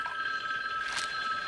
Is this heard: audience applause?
no